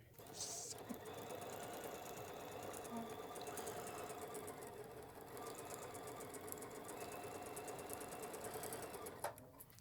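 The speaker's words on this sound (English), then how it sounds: "So let's go sew it." A sewing machine stitching a Christmas quilt block runs continuously for nearly ten seconds, a fast, even mechanical whir with rapid ticking, close and steady, then stops abruptly at the end.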